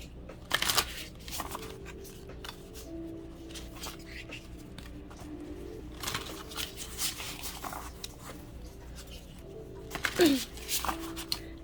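Oracle cards are shuffled close by in soft, papery riffles and flicks, with a few sharper bursts among quieter rustling and light handling.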